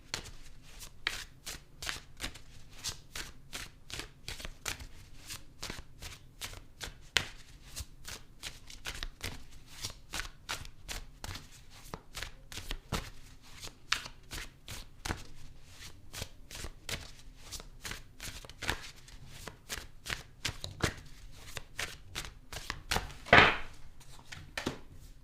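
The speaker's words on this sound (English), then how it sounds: "I'm going to clarify the cards and pull some advice." A deck of tarot cards is shuffled by hand in a long, steady stream of soft crisp card flicks and taps, close and alone, with one sharper slap near the end.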